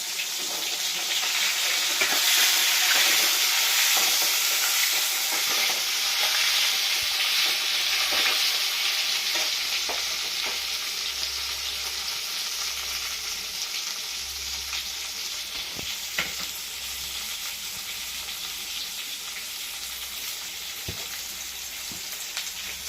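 Pre-fried potatoes go into a pan with tomatoes for a snakehead fish curry, giving a loud, continuous sizzle with scattered stirring scrapes and clicks that slowly eases in intensity.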